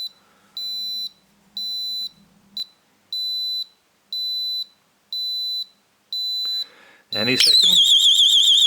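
A homemade Arduino garage burglar alarm built with a PIR sensor and a magnetic door switch. It gives a series of evenly spaced, loud, high-pitched beeps about once per second, then switches to a continuous warbling siren tone near the end. A brief spoken remark occurs.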